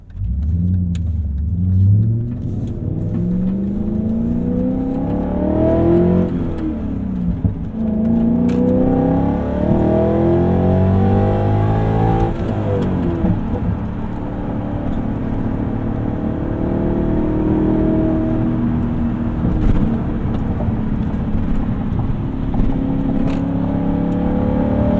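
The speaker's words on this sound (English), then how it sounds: "That V8 sounds glorious as it rings out." A BMW E39 M5 Touring's V8 revs repeatedly from inside the car, rising and falling through several loud, smooth pulls over a steady driving roar with no talking.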